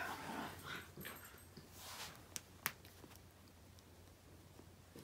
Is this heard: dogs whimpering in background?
yes